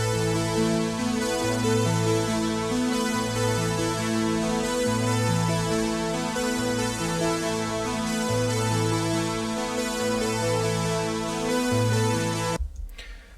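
An Oberheim Matrix 1000 analog synth, a 1,000-preset unit, plays a slightly detuned patch recorded twice and panned left and right. It gives a rich, steady run of sustained harmonic tones in repeating phrases, alone, until it cuts off near the end.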